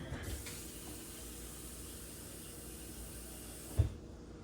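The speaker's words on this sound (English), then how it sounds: "Put some water in" Water runs from a tap into a cup as a steady, soft hiss that continues for several seconds, with a brief knock near the end before it cuts off.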